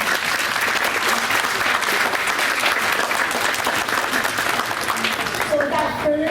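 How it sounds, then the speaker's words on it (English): Sustained applause from an audience at a school board meeting, steady and dense throughout, with a few voices faintly audible underneath near the end. "So let's give them all a big round of applause."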